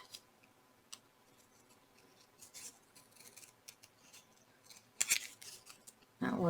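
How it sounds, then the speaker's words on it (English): Scissors trimming green paper scraps for a scrapbook layout, a few quiet snips and paper rustles spread out, then a louder crisp cut near the end, close and soft with no talking. "we're going to trim out these greens just a little bit"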